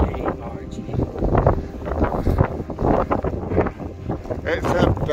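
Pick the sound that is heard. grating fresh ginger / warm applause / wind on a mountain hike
wind on a mountain hike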